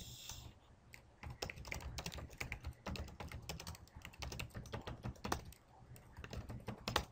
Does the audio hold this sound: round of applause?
no